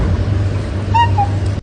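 At a mimicry show, a human voice imitates a cuckoo with two short, whistled rising notes over a steady low hum, brief and fairly faint.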